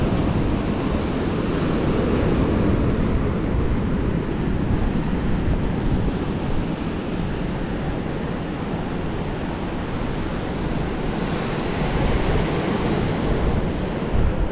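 Storm waves break and wash continuously over a stone-and-sand beach in Crimea, a loud, dense roar of surf with steady wind rumble throughout and no pauses.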